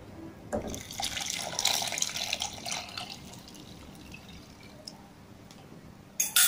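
Water runs steadily from a spout into a pot for several seconds, splashing and gurgling over pumpkin soup ingredients, then a louder clatter at the end.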